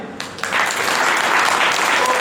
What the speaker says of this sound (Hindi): तो उनके लिए तालियां।